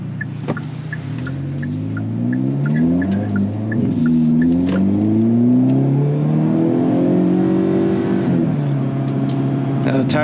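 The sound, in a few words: Hyundai Kona N engine revving while driving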